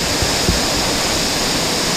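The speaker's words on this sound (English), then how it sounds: "This water's gushing out of this thing." Water gushing out of a cave into a basin, a loud, broad, unbroken rush with a couple of faint low thumps early on.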